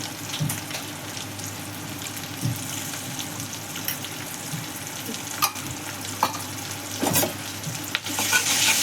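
Ginger garlic paste sizzles in a hot pan while a spoon stirs it, giving a steady frying hiss with intermittent scraping clicks and taps, close and fairly loud.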